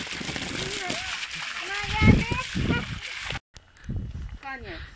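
Water runs and splashes in a rustic outdoor setting, a steady sloshing wash under several people talking, with a voice among them and a brief cut partway through.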